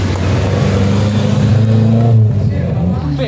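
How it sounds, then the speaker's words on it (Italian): A BMW historic rally car arrives at the Rallye Monte-Carlo Historique 2024 stage in Biella, its engine revving and droning loudly and close throughout, with voices talking over it. "bellissima vettura in arrivo questa BMW"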